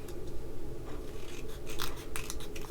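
Scissors fussy-cutting paper for a Christmas scrapbook layout, a run of soft close snips and rustling paper over a steady low background hum.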